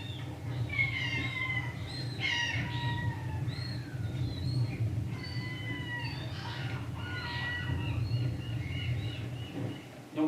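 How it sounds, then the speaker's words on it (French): Black-headed gulls calling on the Bay of Somme estuary, repeated sharp, squealing cries at moderate distance against a low background rumble. "Donc vous avez des mouettes, là ils sont rieuses celles-là."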